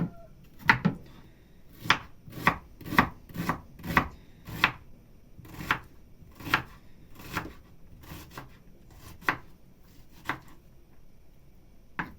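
Brisk knife chopping of greens on a cutting board, a steady run of sharp close knocks with brief pauses, no talking.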